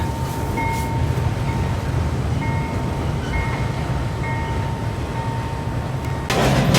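A slow-rolling freight train approaching a junction in Illinois, with steady low rumble, a faint sustained metallic squeal running through, and a louder clank near the end.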